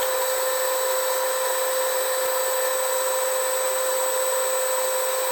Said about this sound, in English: So that's what I'm doing right here with the surface grinder.